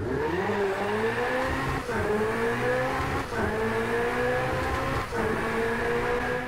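A 2016 Ferrari 488 GTB engine roars loud and close on a racing track, revving hard in steady surges with three quick dips where gears shift, the pitch sweeping upward again after each change.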